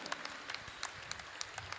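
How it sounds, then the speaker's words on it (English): Audience applause at a basketball game in the NBL Governors Cup, Nueva Ecija versus Zambales, with a scattered crowd clapping, fairly faint and thin, in a short burst. "Palakpakan po natin,"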